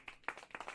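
A short burst of clapping from a sound-effect button, about five quick claps in an uneven rhythm, close and fairly faint, with no talk.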